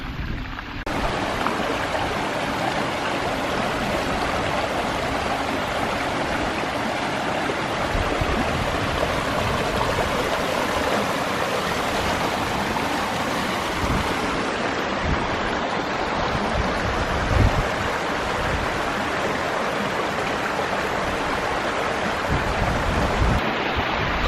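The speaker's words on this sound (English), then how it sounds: "So we're next to another river." A river rushes through a glacially formed valley, a steady, broadband roar of flowing water that stays close and continuous throughout with no voices.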